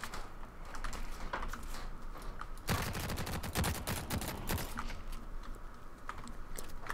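Rapid bursts of gunfire ring out in the shooter game The Cycle: Frontier, dense rattling volleys starting partway through, mixed with close keyboard clicking.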